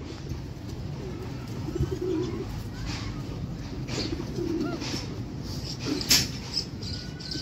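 Soft, low coos from rare fancy pigeons on a rooftop in Sialkot repeat steadily over a dull background murmur, with a brief faint clatter near the end; no one speaks.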